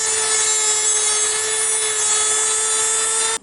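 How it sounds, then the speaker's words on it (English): Dremel rotary tool grinding down a metal part for a retractable truck-bed awning, a constant high-pitched whine held at one steady loud pitch that cuts off at the end. "We got it all Dremeled down."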